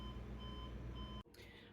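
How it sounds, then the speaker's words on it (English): A daily kitchen alarm beeps a steady high electronic tone over a humming background, then cuts off abruptly near the end, leaving a brief quieter rustle. "that's that erroneous, crazy alarm that goes off about this time every day to remind me to cook dinner"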